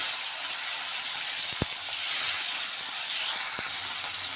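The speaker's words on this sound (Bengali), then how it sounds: "এখন আমি এর মধ্যে 2টো টমেটো কুচিয়ে রেখেছিলাম দিয়ে এটাকে একটু ভেজে নেব।" Chopped tomatoes hit a pan of golden fried onions for a chickpea dish, giving a steady close sizzle and hiss with a couple of small clicks, no voices.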